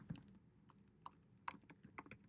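Quiet typing on a computer keyboard, a handful of soft, irregular key clicks spread over a couple of seconds, close and alone without talk.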